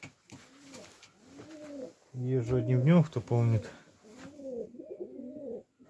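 Iranian fighting pigeons of the headed type, kept on a floor in winter, give soft repeated low coos before and after someone speaks briefly.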